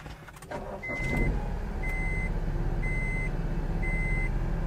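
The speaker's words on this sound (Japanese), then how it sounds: "ちょっと、エンジンつけさせてもらおうか。" A rear-mounted engine in a Honda S660 sports car starts up and settles into a steady low idle close by, while a high electronic chime beeps four times at an even pace.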